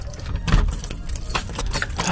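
Keys jangling close up while unlocking a pickup truck, a busy metallic rattle of clinking keys throughout, with some handling thumps underneath.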